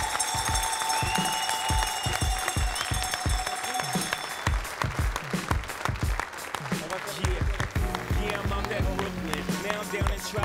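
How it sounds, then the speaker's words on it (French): Spectators at the 2017 National Cheesemakers Competition applaud the candidates at the Sirha food trade show, with sharp individual claps under talking voices and background hall noise over about ten seconds. "je vais vous demander au public, s'il vous plaît, d'applaudir tous les candidats"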